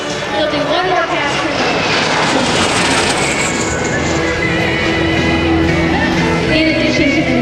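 A T-33 jet fitted with an Allison J-33 engine roars in a knife-edge pass at an air show, a loud continuous jet rush with a shifting pitch as it sweeps past from left to right while an announcer talks over it.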